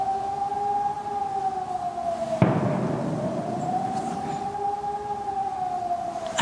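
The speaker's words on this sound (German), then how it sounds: "Den ganzen Morgen geht schon Sirene, tatütata." A distant siren wails with a slow rising and falling tone, steady and moderately faint, with a brief sharp knock partway through.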